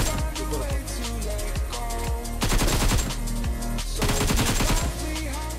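Dense, rapid gunfire from shotguns and SKS rifles in the mobile battle royale BGMI / PUBG Mobile, with overlapping bursts and single shots cracking loudly and continuously, some close and some farther off, with no talking.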